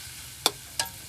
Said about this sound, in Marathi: मिरची शिजून घ्यायची,